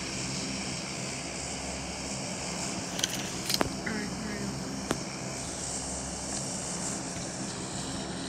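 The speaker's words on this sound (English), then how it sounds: "Plane overhead." In the PUBG Mobile game, an airplane drones overhead as a steady, broad engine roar that fills the whole stretch at an even level, with a few brief clicks and taps.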